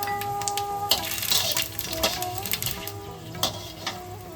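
Panch phoron spices with a bay leaf and dried red chillies hitting hot mustard oil in a pan for a Bengali ash gourd shukto, giving a steady close sizzle with crackling pops and a few clinks.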